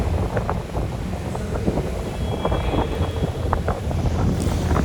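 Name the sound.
open speed boat running fast on the sea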